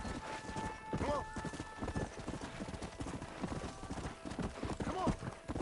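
A horse trots in the video game Red Dead Redemption, with a brisk, continuous clip-clop of hooves, a couple of whinnies, and voices in the background.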